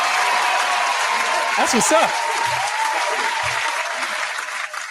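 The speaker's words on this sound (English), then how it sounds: "A round of applause for that." A round of applause on a mixshow: continuous clapping that stays fairly loud throughout, with a person speaking briefly over it partway through.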